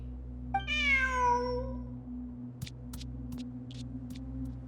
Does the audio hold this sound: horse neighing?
no